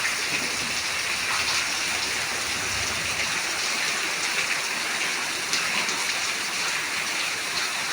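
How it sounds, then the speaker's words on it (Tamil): Heavy rain pours down steadily in Tiruppur, a dense, continuous hiss of drops drumming on surfaces all around, loud and unbroken with no voices. "திருப்பூர்ல மழை அடிச்சு ஊற்றுது பாருங்க"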